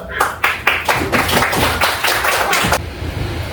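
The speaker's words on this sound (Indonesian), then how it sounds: "Aplaus dulu." Schoolchildren in a classroom clapping for a classmate: a short burst of loud, close hand claps in an uneven rhythm lasting under three seconds, then fading to quiet room noise.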